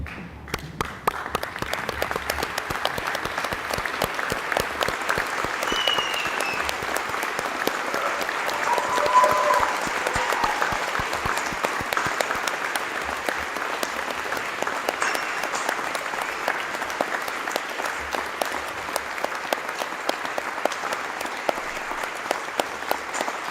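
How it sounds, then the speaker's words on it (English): A standing audience at a graduation ceremony applauds the graduates in sustained, even clapping that holds steady for over twenty seconds, filling a large hall. "join me in applauding our graduates"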